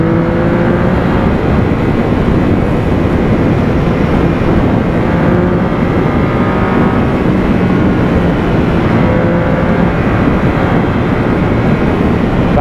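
Triumph Speed Triple 1050R motorcycle cruising fast in third gear at about 146 km/h, a steady loud engine drone mixed with heavy wind roar, continuous throughout with no talk.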